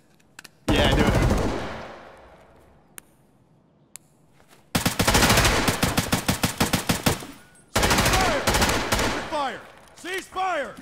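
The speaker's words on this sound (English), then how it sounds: "Cease fire! Hold your fire!" Rapid automatic gunfire in an Escape from Tarkov raid: a short burst, then long sustained bursts of close, loud shots with echoing tails, followed by scattered quieter shots and chirping effects.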